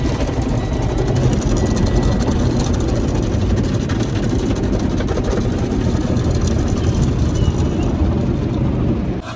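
Inside a car going through an automatic car wash, a steady, loud wash of spraying water and machinery rumble holds continuously without pause.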